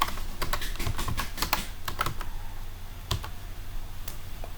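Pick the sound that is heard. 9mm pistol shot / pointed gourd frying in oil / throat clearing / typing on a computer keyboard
typing on a computer keyboard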